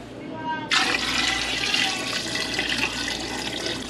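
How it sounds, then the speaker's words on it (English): Water gushes steadily into a soup pot for beef soup, a sudden loud rush that begins abruptly and continues without break. "Add water to the pot."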